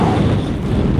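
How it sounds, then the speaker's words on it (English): Wind gusts across the open fells at Easedale Tarn in the Lake District, a loud, steady rumbling roar buffeting the microphone with no talk. "Wind. That's wind."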